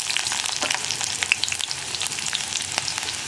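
Round-sliced onions fry in hot coconut oil with popping mustard seeds, giving a dense, steady close sizzle with small crackles throughout and no voices.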